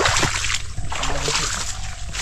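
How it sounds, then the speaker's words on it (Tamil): Water scooped and poured during early-morning snail hunting in a village stream, a loud, continuous slosh and splash with small trickling bursts, close by, with no voices. "அப்படியே அதை தண்ணி அள்ளி ஊற்றுறதுல"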